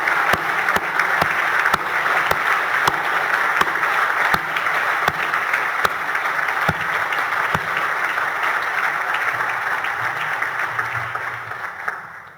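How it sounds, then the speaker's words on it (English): Sustained audience applause at an Australian of the Year awards ceremony greets the Western Australian Senior Australian of the Year nominees, a dense, steady wash of clapping with sharp individual claps that fades at the end. "Ladies and gentlemen, another huge round of applause."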